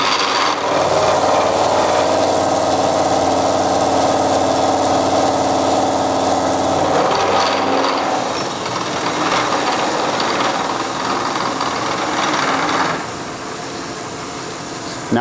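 Milling machine facemilling a cut, a loud steady grinding whir with a rough cutting texture that eases to a lower, quieter run near the end, close and continuous.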